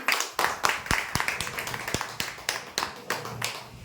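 Small audience claps for a lottery draw winner: a loose, thin round of individual hand claps with separate sharp slaps, moderately close, over faint background murmur.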